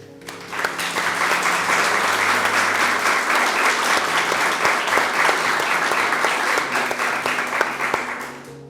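Audience applause at a herbarium museum dedication ceremony, a full sustained round of clapping that swells quickly and holds steady for several seconds, with no speech over it.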